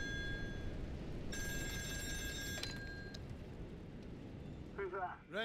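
A telephone rings in the video game Still Wakes the Deep, set on an offshore oil rig: a bright, steady electronic ring lasting over a second, then a brief second ring, heard over a constant low rumble with a faint voice near the end.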